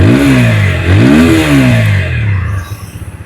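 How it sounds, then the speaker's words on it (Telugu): A 2026 TVS Apache RTR 160 4V motorcycle engine revs up and down twice, close and loud, rising and falling in pitch before settling into a throbbing idle that fades at the end. "చాలా రిఫైన్డ్ అండ్ స్మూత్ అనిపిస్తుంది ఇంజిన్ మీరు రైడ్ చేసేటప్పుడు"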